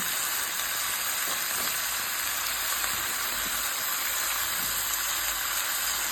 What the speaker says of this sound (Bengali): দেখো পুরো একদম তেলে ফ্রাই হচ্ছে চিকেন।